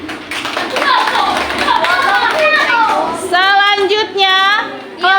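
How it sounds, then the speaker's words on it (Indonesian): Students in an Islamic religious education class clap together in a burst of hand claps, mixed with children's voices chattering and calling out over the clapping, close and fairly loud. "Kasih tepuk tangan."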